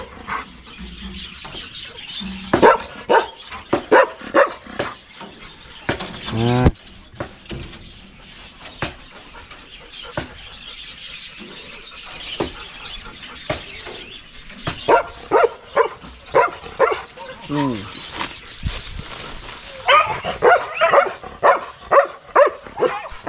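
Several dogs bark in repeated bursts, some sharp and close, with whimpers and yelps between volleys and brief quieter gaps.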